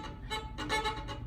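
A violin bow gripping the string hard gives a short, faint, scratchy bowed tone in a few rough strokes, close and quiet.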